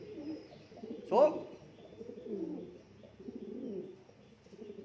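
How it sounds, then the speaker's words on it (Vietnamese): Pigeons coo softly and close by, with low rounded calls repeating through the clip, while a person speaks briefly over them. "Bồ câu này là 30 mấy triệu một cặp đó chị ơi"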